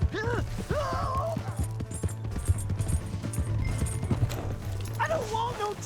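Horse hooves clip-clop in Red Dead Redemption 2, a quick uneven run of hoofbeats under a steady low hum, with a dog barking and someone shouting near the start and end.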